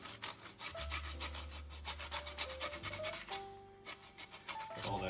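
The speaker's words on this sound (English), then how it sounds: "I'm just gonna use a grater" An organic lemon being zested on a hand grater, a quiet, quick series of scraping strokes at close range, with no talking.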